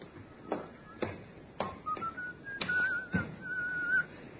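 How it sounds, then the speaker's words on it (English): A man whistles a wavering melody, clear and fairly close, accompanied by several sharp taps or knocks at irregular intervals. "that fellow there, whistling"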